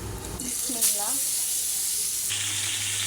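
Tilapia frying in hot oil gives a steady, close hiss and sizzle, with a brief voice speaking over it near the start.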